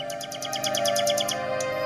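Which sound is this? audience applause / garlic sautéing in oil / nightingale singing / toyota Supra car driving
nightingale singing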